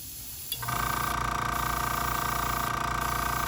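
An airbrush sprays paint onto a tabletop miniature Blue Horror figure. After a brief quiet moment, it starts a steady, close hiss with a thin whine underneath that holds evenly to the end.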